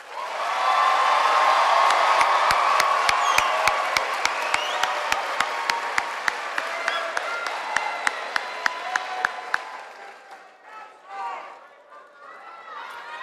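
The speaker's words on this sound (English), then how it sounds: "Please applaud this group of graduates." Commencement crowd at a 2023 high school graduation applauds and cheers for a group of graduates, dense sustained clapping with whoops that thins out and fades over about ten seconds, leaving scattered claps and murmur.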